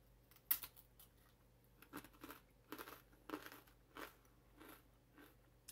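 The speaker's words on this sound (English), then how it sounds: "I apologize for the crunching." Someone crunches and chews a chocolate fortune cookie up close, with a series of sharp, irregular crunches and crackles spread over a few seconds, quiet overall and without talking.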